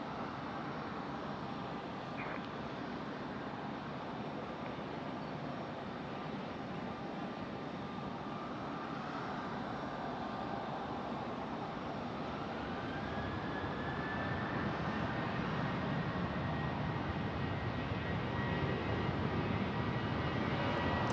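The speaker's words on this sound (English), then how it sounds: "This is a Boeing 737-800 flight 1891 going to Miami." An American Airlines Boeing 737-800 bound for Miami takes off at Raleigh-Durham, its jet engines a broad roar that gradually swells louder, with a rising whine emerging midway, heard from a distance.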